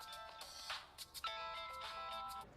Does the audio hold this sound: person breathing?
no